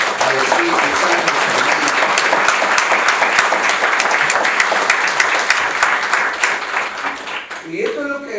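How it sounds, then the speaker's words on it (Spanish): A church congregation gives a long, loud round of applause to the Holy Spirit, dense sustained clapping over about eight seconds, with a voice emerging as it ends. "Le podemos dar una ofrenda de aplauso al Espíritu Santo"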